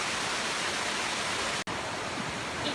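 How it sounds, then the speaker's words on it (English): Pacho waterfall in Narathiwat, a large multi-tiered forest waterfall, pours heavily into a basin with a steady, dense roar of rushing water, broken only by one brief click. "Pacho waterfall are most spectacular with enormous amount of water."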